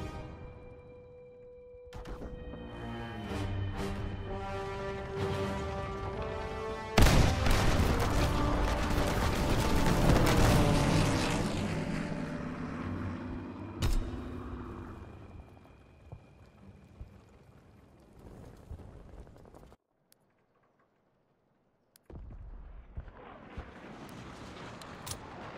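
WWII bombers and gunfire in the Call of Duty WWII game's Operation Breakout battle, with a dense roar of rumbling engines and mechanical clatter swelling loud midway, then fading into near silence before a low rumble returns.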